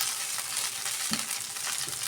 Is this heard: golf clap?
no